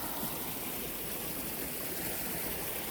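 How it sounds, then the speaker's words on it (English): Creek water rushing steadily where Boggy Head Creek meets a smaller creek along the Florida National Scenic Trail, a continuous broadband wash, soft and even, with no voices. "We got Boggy Head Creek here, and our little creek comes in from over there."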